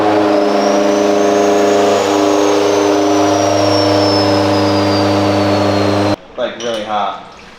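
A fully built Subaru STI or bolt-on Evo X engine revs hard and steadily on a dyno, a loud sustained high-rpm drone that suddenly cuts off, followed by a brief fluttering wind-down.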